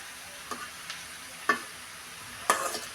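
Cut, washed eggplant pieces go into a hot pan for a mashed eggplant and dried fish dish, giving a faint steady sizzle with a few sharp scraping stirs spaced through, the loudest near the end.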